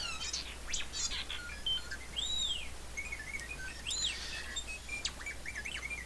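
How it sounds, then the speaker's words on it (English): R2-D2 chirp ringtone from a cell phone, a run of rapid electronic warbles, whistles and sweeping beeps repeating over several seconds at moderate volume, with no talk. "for anybody who just heard R2 chirping"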